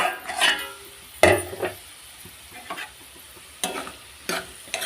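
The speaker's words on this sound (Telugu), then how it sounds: "ఇంకా ఫ్రై కావాలి ఫ్రెండ్స్." Vegetable curry frying and sizzling in a pan, with scattered scraping stirs and soft clinks of a utensil against the pan at a steady, unhurried pace, close and fairly quiet.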